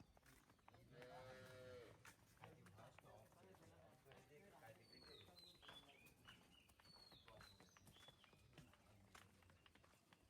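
A dairy cow at a cattle sale gives one short, fairly faint moo near the start, followed by quiet rustling, scattered bird chirps and low background activity.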